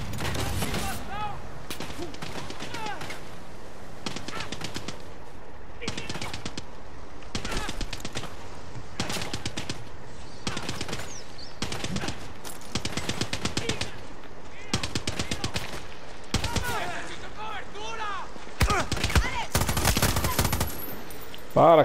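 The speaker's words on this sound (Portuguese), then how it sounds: "quem que tá atirando em mim?" Bursts of automatic gunfire and single shots from the video game Far Cry 6, loud and repeated in rapid clusters throughout, with a voice talking at points between the volleys.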